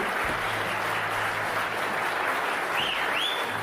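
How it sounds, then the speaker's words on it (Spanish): Prolonged applause from a full forum audience after a speech, a dense, steady wash of clapping at close range that keeps going without a break. "fue largamente aplaudida por la totalidad de los asistentes al foro"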